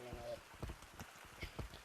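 Rain falling at midnight in the Gorilla Tag virtual reality game, a soft steady hiss with scattered tapping drops, heard under intermittent talk.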